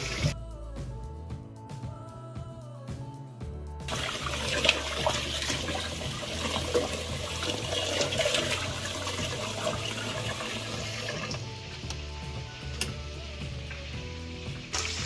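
Hot tap water runs steadily into a pot of rice being washed for a vegetable stew, a continuous close splashing rush with faint clinks, no talk.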